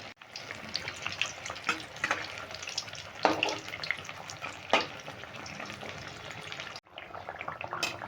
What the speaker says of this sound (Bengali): এটা একটু আস্তে আস্তে মিডিয়াম আছে ভাজতে হবে